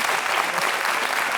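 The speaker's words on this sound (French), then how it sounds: "ça s'applaudit." Studio audience applause on a French television talk show, a dense, steady burst of clapping filling the room at close range for about a second and a half, with no talk over it.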